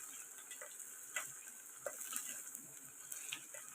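Chopped onions frying in ghee give off a soft, steady sizzle with faint scattered crackles and ticks, quiet and continuous with no voices.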